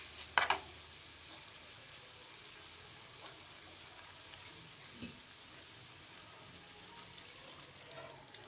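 Water splashes into a pan of spiced prawn and bottle gourd curry, a brief pour right at the start, then a soft steady simmering sizzle.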